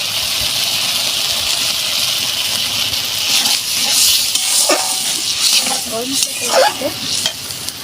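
Curry gravy bubbles vigorously in a pan, a dense, close sizzling hiss with scattered pops and spits, holding steady throughout.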